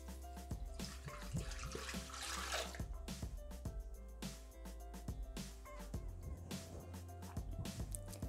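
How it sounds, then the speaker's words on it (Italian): Milk pours into a Thermomix (Bimby) jug, a soft, steady liquid trickle with small knocks and clinks, heard faintly and close throughout. "Iniziamo la ricetta mettendo all'interno del boccale il latte."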